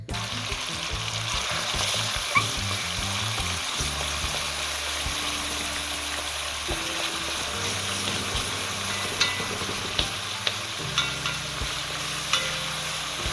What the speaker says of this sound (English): I'm gonna put the saltfish in now